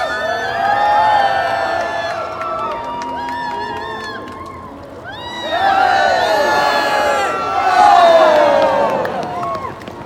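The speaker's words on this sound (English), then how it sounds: "Now this gentleman, Christian, he likes a particularly loud cheer" A large outdoor crowd cheers loudly for a contestant at a ring-spearing contest, whoops and yells rising in two big swells over steady crowd noise.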